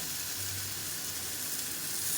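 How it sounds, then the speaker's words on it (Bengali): Jackfruit and potato pieces frying in a pan, giving a steady, dense sizzle that holds evenly throughout at moderate volume with no voices. "এঁচোড়টা আর আলুটা একটু ভালো করে ভেজে নিতে হবে"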